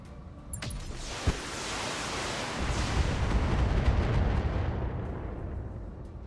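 A heavy weapon shot from a mech in BattleTech: a sharp crack followed by a broad, rumbling roar that swells and lingers for several seconds before slowly fading, heard alone without talk.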